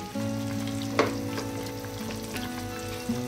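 Chickpeas (garbanzos) being stirred into a simmering Filipino chicken pochero stew: a steady low frying simmer with a steady hum beneath it, broken by a couple of sharp spoon-against-pot knocks, with no talking.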